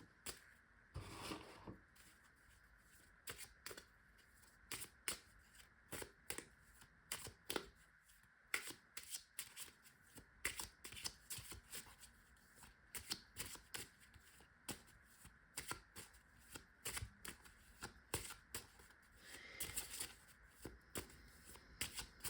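Tarot cards being shuffled for a reading, a quiet close run of rapid papery riffles and soft flicks repeating throughout with short pauses, no speech.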